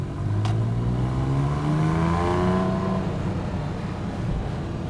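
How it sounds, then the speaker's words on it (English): Porsche 911 997.1 Carrera S accelerating hard, its engine note climbing steadily through the revs in a loud, continuous rising whine with smooth pitch sweeps, close and alone. "this heart-throbbing sensation that I get from accelerating away in it"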